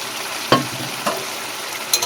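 Fried prawns being stirred into taro leaves in a pan, with a soft steady sizzle broken by three distinct scraping strokes of a spatula against the pan, near and fairly loud, no talking.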